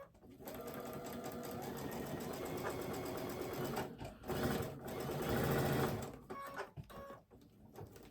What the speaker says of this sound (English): I'm just gonna come here and sew this side.